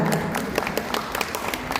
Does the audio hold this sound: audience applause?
yes